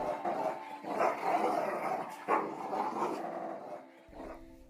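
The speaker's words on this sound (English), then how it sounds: "The dogs, who were tied up by rope, snarled at him viciously." Dogs tied up with rope snarl and growl viciously in a rough, continuous, close-up stream of noisy vocal bursts, with one sharper flare midway and a quieter tail, no speech.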